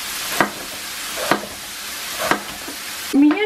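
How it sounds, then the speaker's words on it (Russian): Finely diced food frying in a hot pan, a constant close hiss of sizzling oil broken by three sharp stirring knocks and a brief clatter at the end. "Сковородка разогрелась, и я отправляю обжариваться."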